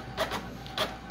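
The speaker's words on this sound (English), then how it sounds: "you can hear almost right away that the printer is trying to do something, trying to print something for us" An HP ENVY printer starting up to print a status report, giving two short bursts of mechanical whirring and rasping, then a pause and two more bursts, close and moderately loud with no talk.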